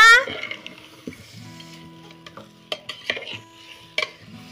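A spoon stirs vegetables for mixed pulao inside a pressure cooker, making sporadic metallic scrapes and sharp clinks against the pot over a quiet kitchen background.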